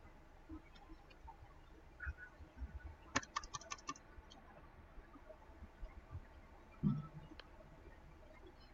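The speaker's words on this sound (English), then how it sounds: "I'll type another sentence." Faint, sparse keyboard typing: a short cluster of quick clicks midway and a few scattered taps, quiet against low room noise with no talk.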